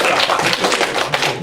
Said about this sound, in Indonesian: Tepuk tangan yang termnya untuk Mbak Sri